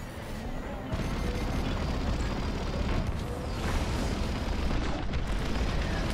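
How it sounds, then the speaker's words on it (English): Rapid rotor cannon fire and explosions in the Star Wars: Squadrons space combat game, with a dense, continuous roar of blasts and booms throughout, loud and close. "Oh my god, rotor cannon!"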